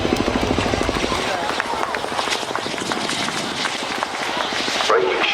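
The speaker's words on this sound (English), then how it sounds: "Helicopter just coming in." A helicopter comes in at the Farnborough International Airshow with a rapid rotor chop that pulses steadily and loudly over a broad roar, while someone talks over it.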